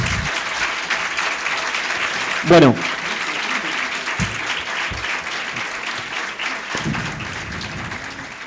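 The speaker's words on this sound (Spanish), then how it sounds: "Un aplauso." Audience applause at a talk on Borges and sex, with a broad wash of clapping running throughout and a few voices breaking in briefly.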